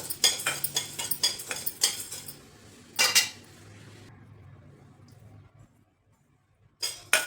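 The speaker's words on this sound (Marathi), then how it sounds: "आता गहू टाकायचे गहू पण छान असे भाजून घ्यायचे खरपूस" Wheat grains are dry-roasted in a pan for metkut and stirred in quick rattling, scraping strokes that clatter close by. The pan goes nearly quiet midway, then one last burst of stirring clatters in at the end.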